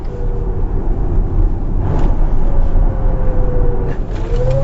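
An electric luxury car accelerating hard gives a steady loud rumble of road and wind noise with a faint rising whine throughout, and no talking.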